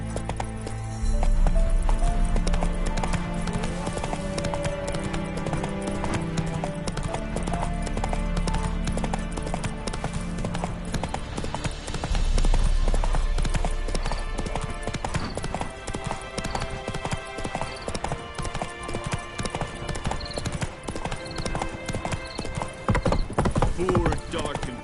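Roach the horse gallops in The Witcher 3 with a steady clip-clop of hooves and an occasional whinny, over a constant game soundtrack.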